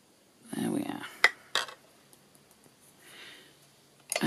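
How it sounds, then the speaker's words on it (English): A fan brush is rinsed in a water jar: a short splashy swish, a few sharp clinks against the glass, then a faint swirl and another knock, close by. "I always put my fan brush in the water"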